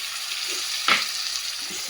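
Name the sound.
tomatoes frying in a pan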